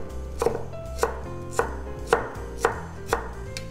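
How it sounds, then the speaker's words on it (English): Knife chopping tomatoes into small pieces on a cutting board, six crisp, evenly spaced thuds about half a second apart, close and clear over a faint background hum, with no talking. "then turn it to the side and then just cut them into little pieces"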